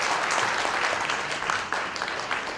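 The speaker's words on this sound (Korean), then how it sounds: "큰 박수로 가주세요." Audience applause fills a founding assembly hall, a dense, steady patter of many hands clapping at moderate distance with no voices over it.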